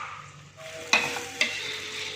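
Spice paste for Aceh-style fried noodles is stirred in a pan after a splash of water is added, giving a steady close sizzle broken by two sharp scrapes of the utensil, with no talking.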